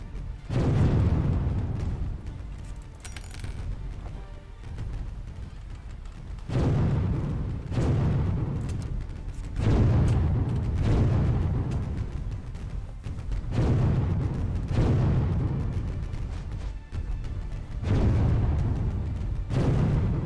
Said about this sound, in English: Lot of explosions.